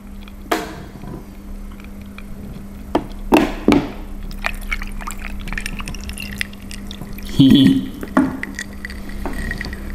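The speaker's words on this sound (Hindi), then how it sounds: "और हम थोड़ा पानी डालेंगे इसमें।" Water from a bottle trickles and splashes into a glass of Chivas Regal whisky, in short bursts with pauses and faint clinks of glass, close and fairly quiet.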